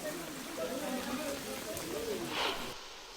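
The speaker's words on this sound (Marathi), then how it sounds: "नवसारीतील पावसाचा व्हिडिओ समोर आलाय." Heavy rain in Navsari, Gujarat, a steady hissing downpour pattering on surfaces, fairly faint and continuous, with a voice talking faintly over it.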